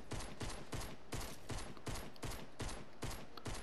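Pistol fire in a battle royale video game: a rapid, steady string of about nine sharp, evenly spaced shots, moderately close, with no talking.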